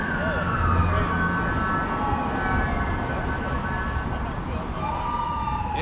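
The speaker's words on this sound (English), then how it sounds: "I hear some sort of a emergency service vehicle, you know, their sirens are on" An emergency vehicle siren wails somewhere outside, rising and falling steadily at a distance. It stays fairly faint beneath a continuous bed of outdoor background noise.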